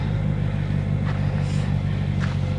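A van drives over rough terrain of boulders and scrub, with a steady low engine rumble and body noise running throughout, and a couple of faint knocks from the wheels on rock.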